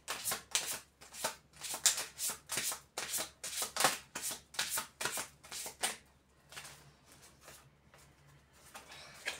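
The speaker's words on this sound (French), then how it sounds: "Je vais rebrasser." Tarot cards being shuffled in a rapid run of about a dozen crisp riffling bursts, close and clear, then a softer, quieter stretch of handling toward the end with no talk.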